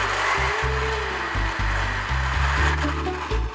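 Kitchen blender cranked up to mix a batch of guacamole, a loud, steady motor whir with grinding pulses and short stutters as the blades catch, running close and alone for several seconds.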